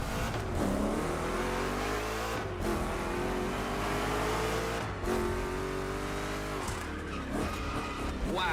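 Two Chevrolet 3100 Big Block Edition pickups racing in The Crew Motorfest, engines roaring and revving through long rising pulls, broken by gear shifts and screeching tire skids on rough turns, loud and continuous with no talk.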